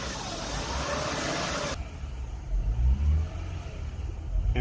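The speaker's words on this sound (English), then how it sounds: "RPM is jumping from low RPM to high RPM." Car engine idling unevenly with a throttle body fault, the revs surging from low to high and back in a fluctuating hum and roar, close and steady, with no talking.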